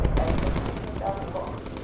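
Rapid machine-gun fire from a bomber's gun turrets in the video game Bomber Crew, a fast, continuous chatter of shots at close range that holds for the whole stretch, with a voice faintly underneath.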